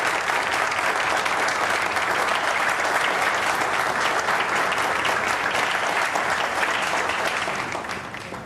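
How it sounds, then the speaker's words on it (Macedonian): Steady, dense applause from a large audience at an award ceremony, as an eco-friendly hotel is handed its prize, holding loud and even for several seconds before easing off slightly at the end. "Аплауз!"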